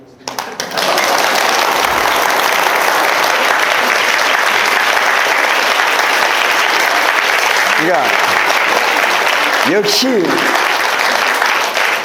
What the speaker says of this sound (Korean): 우리 입주자 여러분들 박수라도 한번 쳐주셨습니다